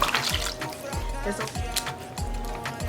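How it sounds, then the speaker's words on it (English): Canned coconut milk poured into a pot of simmering oxtail curry, a close, continuous liquid splashing and gurgling under a person's talking. "So we're gonna add the coconut milk."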